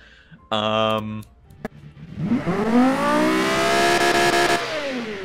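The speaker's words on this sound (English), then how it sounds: "It is revving all the way through its rev band, I believe." A car engine in the Automation racing game sweeps up through its rev band, a rising, harmonic engine whine that climbs and holds high, preceded by a brief tonal blip and a short pause.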